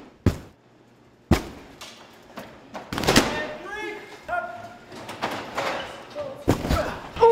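A body strikes the ground after a fall of about 30 feet at roughly 36 miles an hour. It lands with sharp, heavy thuds, then further knocks and voices follow.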